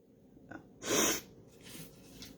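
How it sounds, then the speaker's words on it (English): A single sharp sneeze close to the listener, preceded by a quick intake of breath, followed by soft breathing. "was trying not to do a second sneeze"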